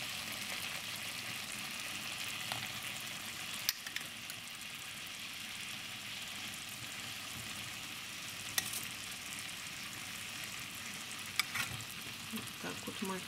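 Potatoes sizzle and fry in a pan, a steady dense crackle that runs unbroken with a few sharper pops, close and fairly quiet, with no talking.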